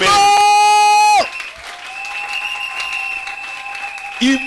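A church congregation applauds during a sermon, a steady mid-level wash of clapping that follows a loud sustained keyboard chord and continues beneath faint held tones.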